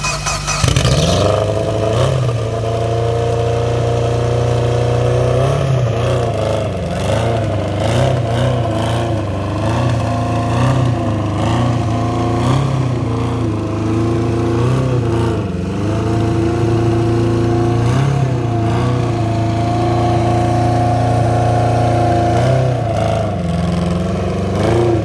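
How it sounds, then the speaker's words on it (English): A fully built 1,000 hp Mitsubishi Evo X running E90 fires up and idles roughly, then revs repeatedly in loud, close bursts that rise and fall over a harsh, lumpy idle, with no talk. "That thing is the loudest car I've ever heard in my entire life"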